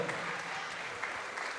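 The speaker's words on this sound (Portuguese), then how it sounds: "Vamos aplaudir ao Senhor e fique de pé" A church congregation applauding during a Christian service, a dense continuous wash of many hands clapping at a moderate distance with no break.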